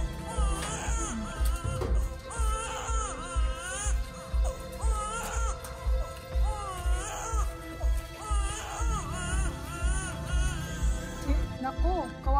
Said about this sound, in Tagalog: may narinig ba kayong iyak ng sanggol?